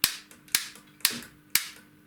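A model railway points motor fires in a main railway siding, giving four sharp, loud snaps like rifle shots, evenly spaced about half a second apart, each ending in a short decay.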